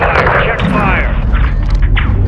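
Gunfire and heavy booms in the video game Call of Duty Modern Warfare 2, in a Mexico mission; a loud, continuous barrage of shots and rumbling impacts, mixed with radio voices.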